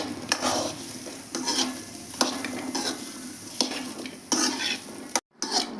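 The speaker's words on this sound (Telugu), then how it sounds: "ఇది బాగా ఒక 5 నిమిషాలు ఇట్లనే వేయించాలండి. ఒట్టిగా వేయించాలి ఇట్లనే" Beetroot dry-roasts in a pan without oil and is stirred by hand. A spoon scrapes the pan in repeated rhythmic strokes over a soft background sizzle, and the sound cuts out briefly near the end.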